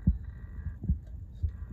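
An industrial needle-feed sewing machine, the JUKI DLN-9010A-SH, runs with a low steady hum and soft rhythmic thumps from the needle and feed mechanism, close and fairly quiet, with no talk.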